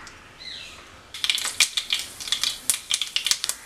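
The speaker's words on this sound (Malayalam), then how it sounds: "കടുക് പൊട്ട് വന്നിട്ടുണ്ട്." Half a teaspoon of mustard seeds spluttering in hot oil in a pan, a rapid series of sharp crackling pops starting after a quiet sizzle, close and fairly clear with no talk.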